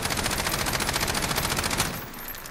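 Rapid automatic fire from a CTAR-21 SBR rifle in Call of Duty Modern Warfare, a steady stream of evenly spaced shots for about two seconds that then stops, leaving a faint tail, no voices.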